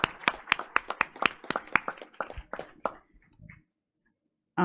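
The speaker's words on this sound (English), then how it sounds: "let's go ahead and give them a round of applause, please." A small group claps in a board of education meeting room, a brisk run of sharp, separate handclaps that thins out and stops after about three seconds, then silence.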